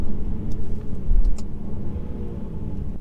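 Engine of a 2019 Mercedes C300 revving hard, a loud, continuous low rumble from inside the car that swells and eases slightly, no talking.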